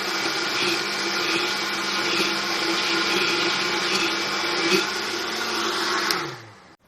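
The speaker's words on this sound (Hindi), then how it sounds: "पहले मैं मैंगो को इसका पल्प बना लूँगी ब्लेंडर में" A blender purées mango into pulp with a loud, steady motor roar and churning whir that holds evenly for several seconds. It then winds down and cuts off near the end, with no voices.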